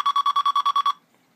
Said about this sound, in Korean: 방금 소리와 같이 정상적으로 연결되면 이 소리가 나게 됩니다.